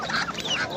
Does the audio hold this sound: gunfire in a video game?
no